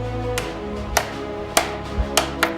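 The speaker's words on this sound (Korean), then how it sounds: "쐐기를 박아 이음새를 더욱 튼튼하게 만든다" A mallet drives wooden wedges into traditional hanok timber joinery, landing five sharp knocks at irregular intervals over steady low background hum.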